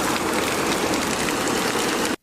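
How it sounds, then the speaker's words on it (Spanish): Torrential rain pours down on the streets of Huaraz with floodwater running, a dense, steady roar of water filling the clip up close before cutting off abruptly near the end. "Así quedó la hermosa ciudad de Huaraz tras 30 minutos de una torrencial lluvia."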